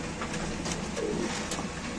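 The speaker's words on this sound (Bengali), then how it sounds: "কালো এক্সিবিশন কবুতর এখানে আছে" Black exhibition pigeon cooing at a fancy pigeon farm, soft low coos repeating close by over a steady hum of other birds.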